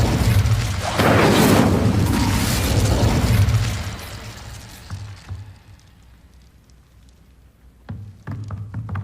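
An Incendio fire spell erupts in Hogwarts Legacy, a loud fiery whoosh and rumbling burst that swells over the first four seconds, then fades into quieter game ambience with small pops and a faint later thump.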